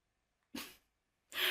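A baby sneezes twice, two short close bursts spaced about a second apart with silence between.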